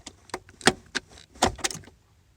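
Car gear shifter being moved so the key interlock releases, a quick series of close mechanical clicks and clunks, with two louder knocks amid lighter rattles.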